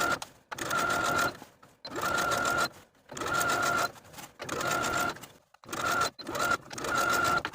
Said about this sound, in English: We're going to sew this seam allowance to the facing about 1/8 inch away from the original stitching line